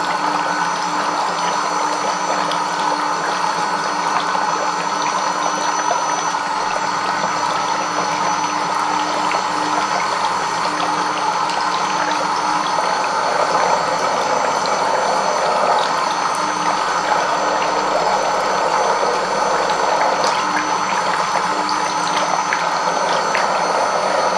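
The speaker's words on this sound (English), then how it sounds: "The bubbling motion creates a soft, tingling sensation against your skin" A Silvercrest foot spa bubbles water in a steady, continuous churning hum with a mechanical pump undertone, loud and unbroken throughout with no talking.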